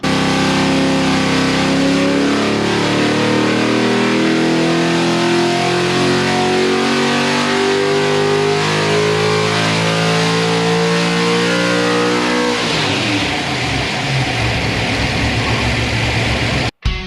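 A V8 engine fitted with an HEI distributor ignition revs on a dyno, a loud, close, sustained pull with the pitch climbing steadily for about twelve seconds. It then drops into rough, burbling deceleration and cuts off abruptly at the end.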